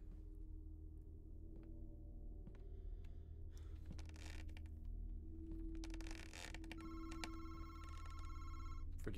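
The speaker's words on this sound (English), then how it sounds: "Still don't know where this phone is coming from." A telephone rings inside a house in the horror video game Madison, repeated bell-like trills over a low hum, faint and distant at first and growing slightly louder toward the end.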